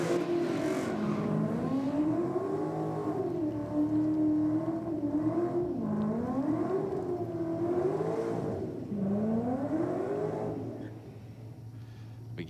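A black HJ Holden GTS races a VE HSV, engines revving in repeated rising and falling waves as the rear tyres burn, loud and sustained with a crowd murmur and voice in the background.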